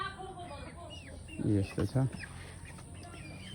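Rooster and hens clucking in a vegetable garden plot with mustard greens and tomato plants, short clucks scattered at close range beneath a person talking nearby.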